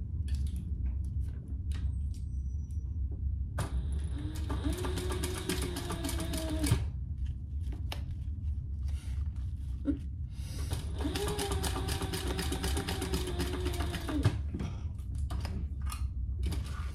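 A sewing machine stitches a bag seam with a very short stitch length and a quarter-inch seam allowance. It runs in steady, rapid mechanical bursts separated by short pauses, close and clear.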